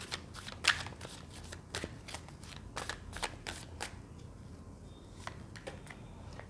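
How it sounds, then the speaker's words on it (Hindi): Tarot cards are shuffled by hand in a series of quiet, close, crisp riffling bursts that repeat in an uneven rhythm. "जब तक मैं कार्ड शफल कर रही हूँ"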